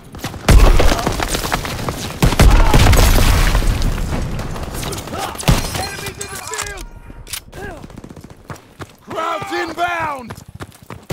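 Grenade blasts and heavy gunfire in the Call of Duty WW2 battle boom loudly in quick succession, followed by shouted soldier voices and scattered shots as the fighting continues.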